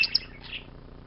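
A pet bird, among starlings and other birds, gives a couple of sharp, high chirps right at the start, close and clear, followed by fainter twittering against a quiet background.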